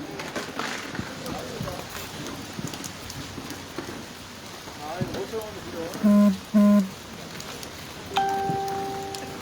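Steady rain patters outdoors at an evening candlelight rally against a THAAD deployment in Gimcheon, with people talking faintly beneath it and a couple of loud thumps near the end.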